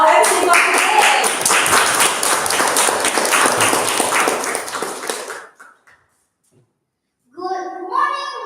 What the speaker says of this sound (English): Ladies and gentlemen, let's give applause for our MC for today.